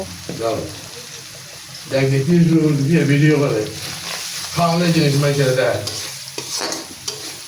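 Stirring of food frying in a pan with turmeric powder: steady scraping and sizzle, with a voice heard between strokes.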